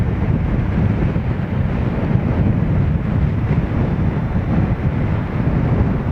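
Steady, loud wind roars and buffets the microphone throughout, as if moving fast in open air, with no pauses.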